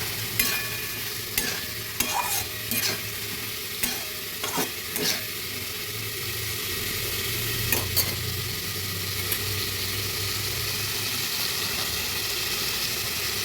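Chickpeas and tomatoes frying in a pan for a vegetarian kabuli chana paneer dish, with a steady sizzle and repeated scraping stirs near the start, then continuous hissing frying through to the end.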